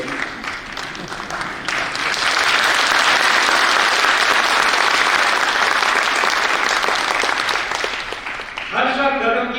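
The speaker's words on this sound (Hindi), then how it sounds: "इतनी तालियां नहीं चलेगी।" An audience at a National Voters' Day ceremony in Bhopal breaks into loud, sustained applause that swells and holds for several seconds, then thins as a voice returns near the end.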